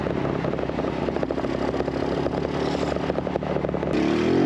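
A Honda C90 motorcycle being ridden, its small engine giving a steady, continuous drone up close with a rising pitch near the end.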